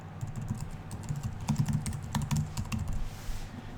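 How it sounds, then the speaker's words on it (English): Rapid clicking keystrokes on a computer keyboard entering a web address, close and fairly quiet, in uneven bursts with brief pauses. "Now I'm going to type in a URL"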